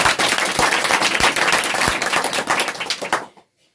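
Studio audience applauding a quiz show winner who answered all ten questions correctly, a dense burst of loud clapping that continues steadily and then cuts off abruptly near the end.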